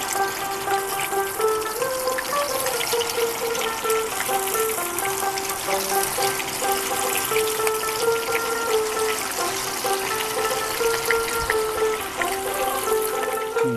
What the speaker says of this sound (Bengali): তেলটা মোটামুটি গরম হয়ে গেছে, আমি এখানে তাহলে মাছগুলো দিচ্ছি।